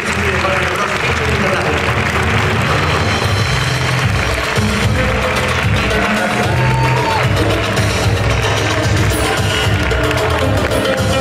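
A large gala audience bursts into sustained, dense applause with scattered cheers after the best foreign film award for Argo is announced at the 2013 CEC medals ceremony, steady and loud throughout.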